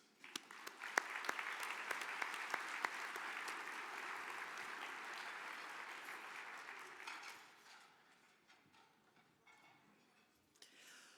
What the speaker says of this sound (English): Please join me now in applauding the efforts of this year's Fast 50 and emerging companies.